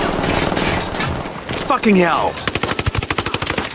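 Loud automatic gunfire in the video game Ghost Recon Wildlands, a rapid burst of sharp regular shots closing the moment after a shouted voice, with game sounds and speech before.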